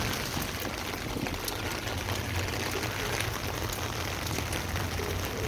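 Heavy rain falls steadily outdoors, a dense, even patter on surfaces with a low rumble beneath, constant and fairly loud with no talking.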